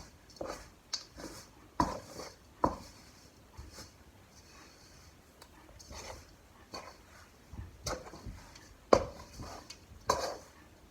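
A utensil works a thick no-bake chocolate peanut butter protein ball mixture in a bowl, producing irregular scraping and clinking strokes, close and moderately loud with quieter pauses between.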